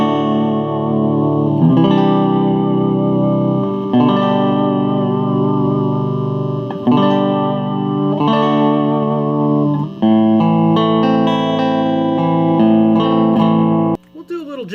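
A 1965 Harmony H74 electric guitar with a Bigsby vibrato and 11-48 gauge strings plays a loud, effects-laden demo jam: strummed chords ring and sustain, changing every couple of seconds, with a busier run near the end.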